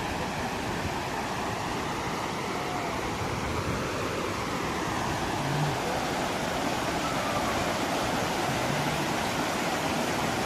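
Chaparai waterfall pours in a dense, unbroken roar of falling water, loud and steady throughout with no voices rising above it.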